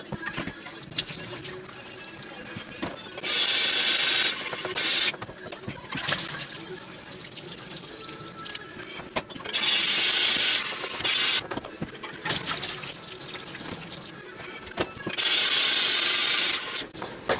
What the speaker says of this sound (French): Que je rince à l'eau chaude, à l'eau tiède puis à l'eau froide.